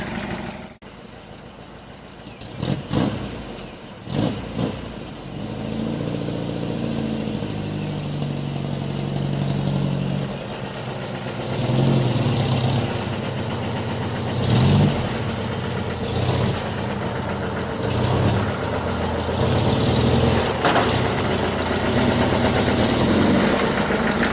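A Volkswagen car engine runs steadily at idle for a long stretch, a close, even mid-range rumble with a few clunks and door or handling knocks, and slight swells in engine note as the car prepares to pull out.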